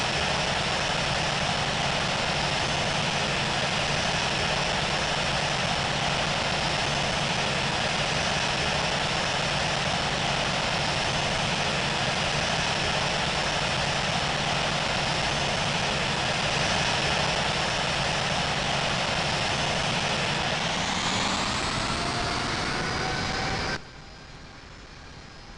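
Delta Airbus A350 taxiing to runway 22 right at JFK airport, a loud, steady engine drone heard continuously, its pitch swelling near the end before the level suddenly drops.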